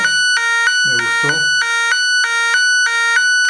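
An electronic siren tone from a capacitor circuit alternates between two pitches in a steady, regular cycle like an ambulance, loud and continuous, with a brief voice murmuring underneath.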